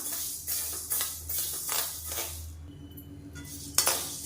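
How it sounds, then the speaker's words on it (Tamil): Whole black urad dal dry-roasting in a heavy kadai with no oil, a spoon scraping and clinking against the metal in repeated strokes, close and fairly quiet, with no voices. "இதை நல்லா செவந்து வர அளவுக்கு வறுத்துக்கலாம்"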